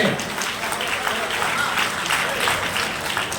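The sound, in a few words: audience applause welcoming the civil aviation minister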